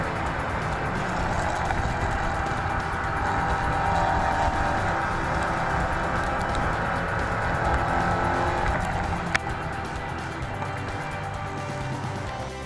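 Porsche 944 race cars run nose to tail around a circuit, their engines making a continuous loud drone with a brief sharp knock partway through.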